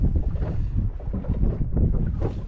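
Strong gusting wind buffets the microphone with a steady low roar that rises and falls, with no one speaking.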